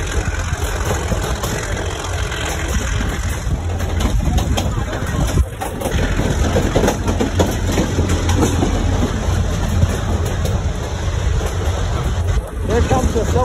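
A diesel locomotive hauls the D&S narrow-gauge train through the Animas Canyon near Durango, with a loud, continuous engine drone and rumble mixed with wind buffeting, while people talk over it.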